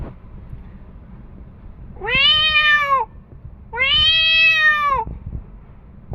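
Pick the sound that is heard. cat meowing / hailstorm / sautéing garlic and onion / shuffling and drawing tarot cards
cat meowing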